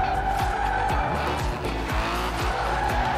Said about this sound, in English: We have a good, nice drifting.